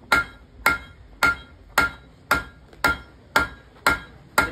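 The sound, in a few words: hammer on anvil drawing out hot steel for a knife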